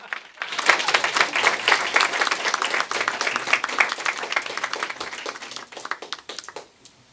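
Audience applause for a panel of speakers at a conference session, a steady dense clapping that swells after a brief quiet start and then tapers toward the end.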